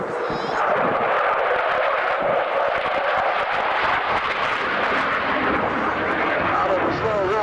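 An F-14 Tomcat jet roars steadily at an airshow while it sweeps its wings and flies a slow roll at 350 miles an hour. The loud, continuous jet noise carries under a commentator's voice.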